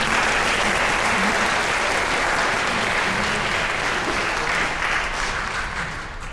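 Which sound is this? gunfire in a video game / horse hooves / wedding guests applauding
wedding guests applauding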